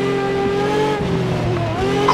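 A Porsche 911 rally car engine in the racing game WRC 8 revs hard and shifts, pitch rising, dropping and climbing again, with faint tire noise in a steady loud stream.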